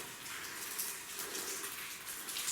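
Rain falls with a steady, dense hiss in a mining video game, the even patter continuing without a break through the short span.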